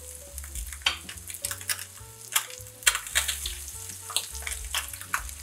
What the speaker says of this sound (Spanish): Empezamos a dorar nuestros rollos cuando el aceite ya esté bien caliente.